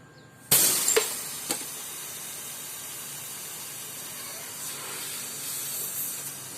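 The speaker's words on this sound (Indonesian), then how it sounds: "Jadi kita potong dulu di pipa vakum ya." A refrigerator's vacuum pipe is snipped with a sharp crack, followed by a steady hiss of escaping refrigerant gas that fades slowly, with a couple of small clicks of the cutter.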